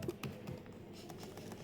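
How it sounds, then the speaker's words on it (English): Keyboard shortcuts typed on a computer keyboard running GNOME, a short, quiet burst of soft, quick key taps without talk. "prepare for me to mistype a lot of keyboard shortcuts"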